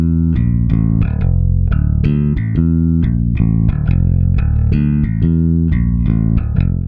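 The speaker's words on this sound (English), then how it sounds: "So if I play that classic intro guitar riff on bass, it would sound like this." A bass guitar plays the intro riff of a song, a quick, evenly pulsing run of punchy, slightly gritty notes, loud and close with no talking.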